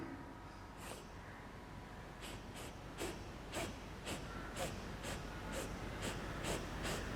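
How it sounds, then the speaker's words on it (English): A series of short, sharp nasal sniffs repeats at a steady rhythm, about a dozen quick breaths in through the nose, close and fairly faint. "So what we are going to do, just do the sniffing movement."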